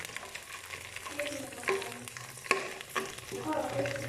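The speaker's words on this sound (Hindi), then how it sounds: "ये कढ़ाई में चिप्स बनते हैं ना, तो वो चिपक जाते हैं नीचे इस वजह से" Potato chips frying in oil in a kadhai, a soft continuous sizzle with small crackles and pops, close and moderately quiet, no talking.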